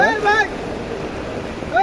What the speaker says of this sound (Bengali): কঠিন স্রোত যাচ্ছে